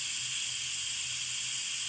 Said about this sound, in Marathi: कुकरच्या 3 शिट्ट्या होऊ द्यायच्या